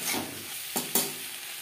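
Potatoes fry with spices in a pan as a utensil stirs them, a low sizzle broken by two quick scraping strokes close by, with no voices.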